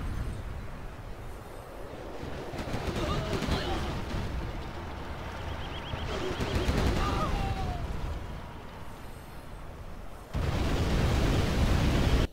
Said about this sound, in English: just want to shoot over the valley in Lost Valley. look at the range of the mini cannons